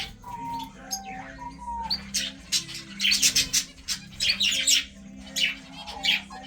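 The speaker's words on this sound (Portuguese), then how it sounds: "Primeiro filhote de rolinha diamante aqui do meu viveiro." Diamond doves in an aviary, a young chick with its parents, give soft repeated coos and chirps up close, mixed with bursts of rustling and fluttering.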